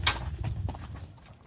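A trotter horse is jogging in training, its hooves clip-clopping in a quick, light, uneven rhythm at close to middle distance. A sharp tap opens the sequence before the steps fade toward the end.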